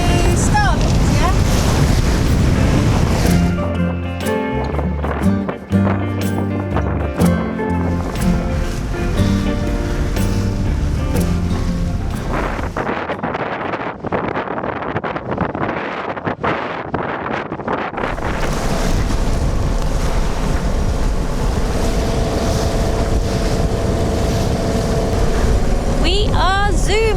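A small boat motors along at about six knots on slack water, its engine droning steadily under loud wind buffeting and splashing water, with voices talking over it.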